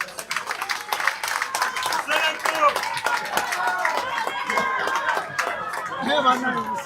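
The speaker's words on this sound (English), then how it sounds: "Let's clap for all the candidates for Kawempe North." Debate audience at a party office in Kawempe North clapping for the candidates, a dense close patter of hands with voices mixed in.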